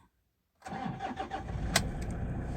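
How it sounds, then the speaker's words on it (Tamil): A Toyota Innova, just repaired after a failed injector driver module left it cranking without starting, fires up after a moment of silence and settles into a steady idle, heard close by. "அதை மாற்றினோன்னே வண்டி பக்கா ஸ்டார்ட் ஆகிடுச்சு"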